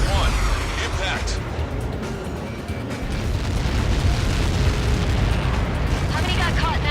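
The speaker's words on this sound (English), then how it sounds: "How many got caught in that explosion?" Massive missile impact explosion in the Ace Combat 7 combat flight game, a loud sustained rumbling roar with crackling debris that swells again after a brief dip, with radio chatter voices mixed in.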